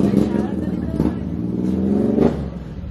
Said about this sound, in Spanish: el motor se está cagando